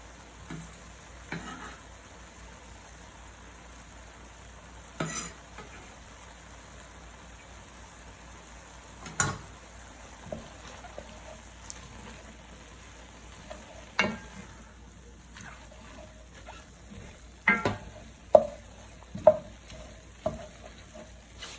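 Spring onions and chopped garlic frying in a pan while being cooked for lasagna, a faint low sizzle under sparse scraping stirs and occasional utensil taps.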